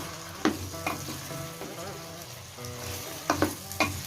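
Mixed vegetables for Andhra-style sambar frying and stirred in a pan, a steady close sizzle broken by a few sharp clacks of the spoon against the pan.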